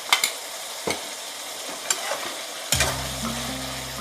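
A spoon scrapes and stirs ground biryani masala in a hot pot of mutton biryani, a few sharp clanks over a soft sizzle that swells into steady frying at the end.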